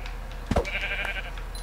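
A brown sheep in the Minecraft video game bleats once, a short wavering cry lasting under a second, close and clear over a steady low game hum.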